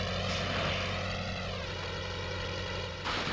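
Airplane engine in the Spider-Man 2 video game, a sustained propeller drone with a steady pitch that bends slightly midway and then swells near the end, continuous and without speech.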